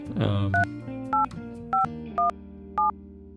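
A phone dials a number, five short DTMF tones spaced evenly over a low background of music or voice.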